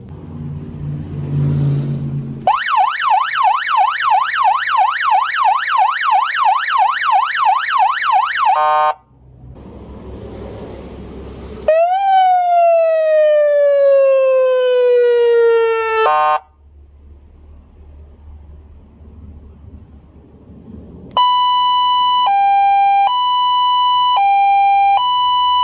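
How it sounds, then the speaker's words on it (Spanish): A car siren newly installed in an automobile is tested through several loud, close tones in turn: a fast warbling wail, a rising sweep, then an alternating two-tone pattern, with short pauses of low hum between them and no talking. "Ahora ya nada más falta probar la sirena."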